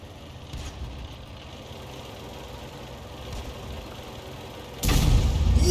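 Low steady engine rumble of a Grille in a tank video game idles for several seconds, then one sudden loud cannon blast booms close at the end.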